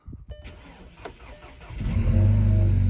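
A Volkswagen Golf 6 GTI engine cranks briefly with a few clicks and whirs, then catches and settles into a loud, steady idle close by.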